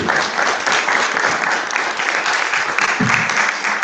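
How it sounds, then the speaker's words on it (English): A large workshop audience applauds steadily, dense clapping that stays loud and even throughout with no voices standing out. "Give yourself a round of applause for showing up today."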